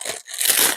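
Scissors press and crunch through a very strong cake dowel with two harsh, grinding bursts of effort separated by a short pause, loud and close with no talking.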